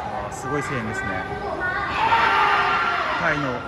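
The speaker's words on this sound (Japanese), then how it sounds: "すごい声援ですね。" A crowd of fans at an idol live show in Thailand, with mixed chatter and scattered shouts that swell into a loud, sustained roar of cheering midway, which holds steady to the end.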